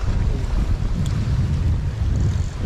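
Steady seaside wind buffets the microphone during shore fishing on the sea, a constant low rumbling roar that fills the whole stretch with no voices.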